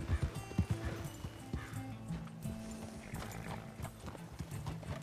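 Horse hooves clip-clopping at a steady walking rhythm in the video game Red Dead Redemption 2, fairly close, with a brief whinny and game ambience under it.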